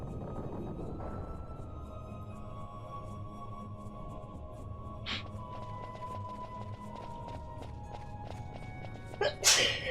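A single sharp sneeze bursts out near the very end, loud and close, over a steady bed of quiet video-game background sound.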